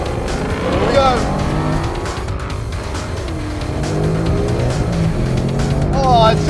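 A 2019 Mustang GT PP2 engine drones hard under acceleration on a race track, a steady loud roar with rising pitch sweeps as it climbs through the gears, while a person talks over it.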